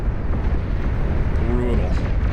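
In the strategy game Beyond All Reason, a heavy weapon's blast roars as a dense, loud, sustained rumble, with someone talking over it.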